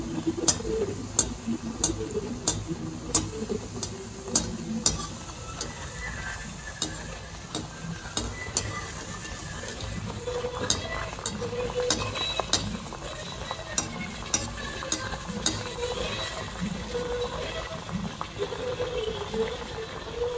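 Ragi burallu, sweet millet balls, fry in hot oil with a soft, steady sizzle and bubbling. Faint regular ticks and light stirring clicks sound over the frying, which stays fairly quiet and close throughout.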